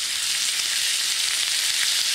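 Close, constant frying hiss from steaks searing in a hot pan in a camper, an even, dense sizzle without pauses or talking.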